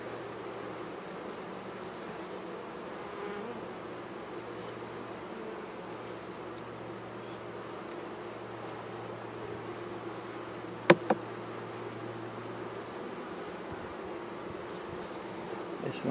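Honeybees drone around an open three-deep, eight-frame hive at a farm, a faint steady buzz that runs throughout, with a couple of sharp knocks near the end.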